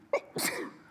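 A single quick sneeze in a council meeting room, moderately close, followed by a brief breathy aftersound and low room noise.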